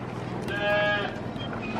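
A goat calls out once on a farm at an animal feeding visit, a clear bleating cry in the middle of a continuous outdoor background hum.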